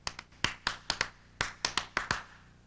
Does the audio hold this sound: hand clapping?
yes